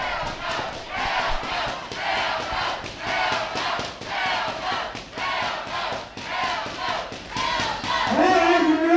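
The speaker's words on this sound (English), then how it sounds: "And this crowd is ecstatic." A wrestling crowd at an independent show roars and chants in swelling waves, loud and sustained, with a voice rising at the very end.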